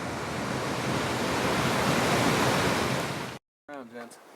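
A steady, loud roar of a waterfall at the top of a canyon in Paradise Park, Mount Hood, Oregon, fills most of the stretch, then cuts off and a voice briefly speaks.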